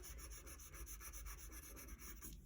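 Colored pencil coloring in yellow on paper for a Grinch art lesson, a close, steady rhythmic rubbing with quick back-and-forth strokes that repeat evenly and continue without a break.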